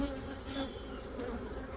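Honey bees buzzing on a hive frame of brood in a neglected, mite-infested colony, a continuous close, moderately loud drone with no talk over it.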